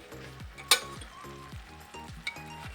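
Mushrooms hit a pan of onions stewed in homemade sour cream, giving a soft, steady sizzle with a sharp clink of a utensil and light stirring scrapes close by.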